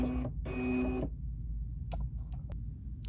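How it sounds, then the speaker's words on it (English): A Bernina embroidery machine with a small clamp hoop starts stitching: a brief burst of whirring motor noise, a pause, a longer whir, then a few light clicks and taps over a quiet background. "now I'm gonna close out of this screen, hit my sew button"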